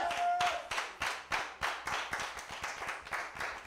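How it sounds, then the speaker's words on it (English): A congregation at a church service claps in time, a clear series of about a dozen sharp, evenly spaced beats at roughly three per second. The beats are loud and close, with a brief tone at the start. "Clap your hands and shout"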